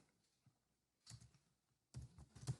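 Quick bursts of typing on a computer keyboard, soft isolated clicks and then two short clusters of keystrokes, close and quiet with no talking.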